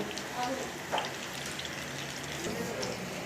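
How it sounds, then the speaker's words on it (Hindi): French fries frying in oil, a soft bubbling sizzle with a few crackles, faint and steady, heard with speech in the background. "हम कम ही डाल रहे हैं इसमें ताकि आराम से फ्राई करके बेहतरीन अच्छे से निकाल सकें"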